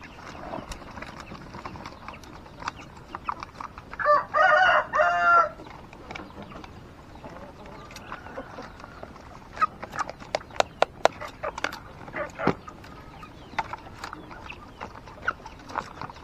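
Three-month-old chicks from a single hen, eleven birds, cluck and peep in a coop; scattered sharp taps and scratches are joined by one short, louder burst of calling midway.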